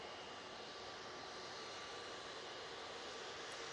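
An Emirates jet airliner at Manchester Airport gives a steady, even roar that holds level throughout, heard from a distance with no speech.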